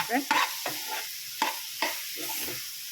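A chapati-roll filling frying with dark soy sauce in a pan, close stirring scrapes landing in irregular strokes over a continuous soft sizzle, with no talk.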